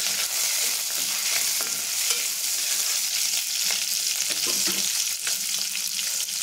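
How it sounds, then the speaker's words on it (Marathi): Green chilies and curry leaves sizzle in hot oil with roasted peanuts in a pan, a steady dense crackle with occasional scrapes of a spoon stirring, close and continuous with no talking. "शेंगदाणे छान भाजले की आपल्याला त्याच्यामध्ये मिरची टाकून घ्यायची। मिरची आणि कढीपत्ता आपण एकत्रच टाकतो।"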